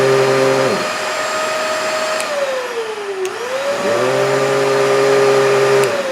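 A Simplicity S40P or Riccar R40P upright vacuum cleaner runs with a steady, loud motor whine that dips and bends in pitch midway, then settles back to its full drone.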